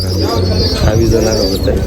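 Pigeons in a loft coo in low repeated rolling phrases, close and steady, with voices and other birds mixed in.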